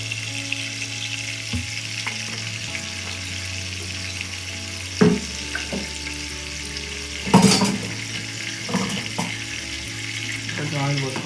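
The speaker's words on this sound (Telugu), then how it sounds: "కొంచెం ఆయిల్ పోసుకోవాలి." Oil heating in a clay pot for Saudi-style murgh masalam chicken, a steady close sizzle and hiss running throughout with a few louder clanks and stirring knocks, no talking.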